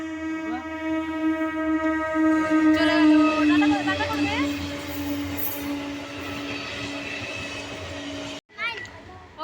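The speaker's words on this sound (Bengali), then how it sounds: "ওই দেখো গাইস ট্রেন আসছে" A train passes with a loud sustained horn and rumbling wheels, voices chattering over it, before it cuts off abruptly near the end.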